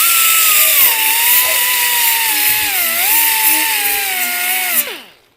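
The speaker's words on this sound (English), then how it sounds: "I'm going to go on the outer edge of this and sand all this E-coat off." A power sander grinds E-coat off the edges of a 1971 Chevrolet Nova floor pan. It gives a steady loud whine that dips in pitch under load, then spins down and stops.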